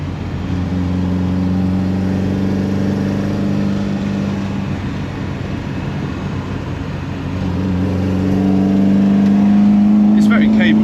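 A 1965 Volvo Amazon estate hotrod with a swapped B20 engine drives along, its engine droning steadily and building toward the end, under people talking inside the car.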